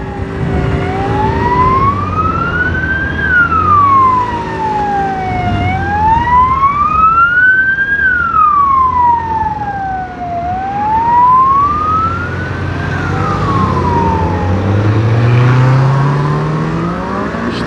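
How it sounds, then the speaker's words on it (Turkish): A loud wailing ambulance siren sweeps up and down in long cycles, close and continuous, passing over the rumble of traffic. "Şimdi arkandan ambulans geliyor."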